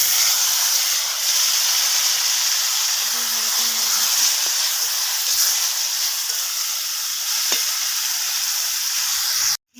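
A mixed vegetable ghonto for a spinach curry hits hot fried spices in the pan, raising a loud, continuous hissing sizzle that holds steady and then cuts off abruptly at the end.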